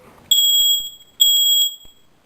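A ceiling smoke detector gives two loud, piercing electronic beeps, each lasting under a second, as it is tested after a fresh battery goes in. A short pause separates the beeps, and the room is quiet around them.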